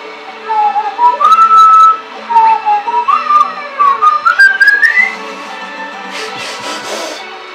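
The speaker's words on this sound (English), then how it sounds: "I better stop just whistling." A person whistles a tune alone, clear and close, a wandering melody in phrases with short breaks, then quiet game sounds after it stops.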